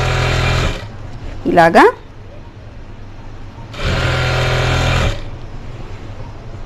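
A sewing machine stitching the edge of a collar neck dress hums in two steady runs, the second starting after a short spoken word, with a brief higher-pitched squeal between them.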